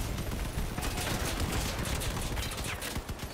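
An Aurora minigun fires in a video game as a continuous loud roar of rapid, tightly packed shots, sustained without a break for several seconds.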